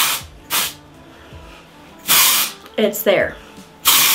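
Several short hissing bursts of aerosol hair product, close by, separated by pauses, with a person briefly speaking between them.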